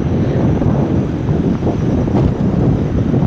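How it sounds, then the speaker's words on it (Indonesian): Strong wind buffets a phone microphone high up on a tower, producing a loud, constant low rumbling roar with no break. "Anginnya kenceng."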